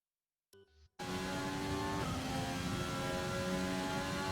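Formula 1 car engine in the F1 2020 racing game on PS4 Pro, cutting in after a brief quiet blip as a loud, sustained high-pitched whine with a gear change partway through, heard alone.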